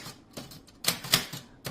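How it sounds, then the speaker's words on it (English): A 1980s Olympia Travel Deluxe portable typewriter, a few sharp, close key strikes in an uneven rhythm with quiet gaps, heard on their own. "this is a typewriter called the Olympia Travel Deluxe"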